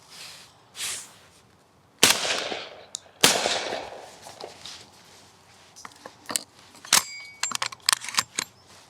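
Winchester SX4 20 gauge semi-automatic shotgun fired at clay targets, two loud sharp blasts spaced about a second apart with trailing echo, followed by quieter metallic clicks and rattles.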